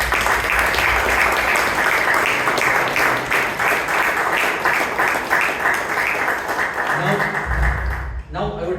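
Toastmasters club members in Bangalore applauding their new members, steady room-filling clapping lasting about eight seconds before fading abruptly, with a voice speaking over the last moments.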